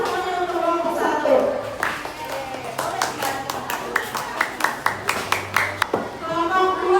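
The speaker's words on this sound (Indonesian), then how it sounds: "Tepuk tangan dong semuanya untuk kelompok 1." A first-grade class gives group 1 a round of applause, a string of regular, evenly spaced hand claps, moderately close, following a teacher's speech and leading back into talk.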